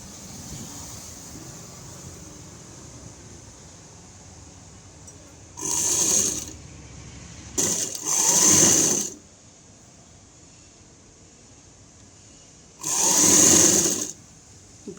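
A sewing machine stitches piping onto a blouse lining, running in three short whirring bursts of a second or two each, separated by quiet pauses.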